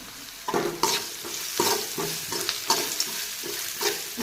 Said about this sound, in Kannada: ಚೆನ್ನಾಗಿ ಹಸಿ ವಾಸನೆ ಹೋಗೋವರೆಗೂ ಈ ಥರ ರೋಸ್ಟ್ ಮಾಡ್ಕೊಳ್ಳೋಣ.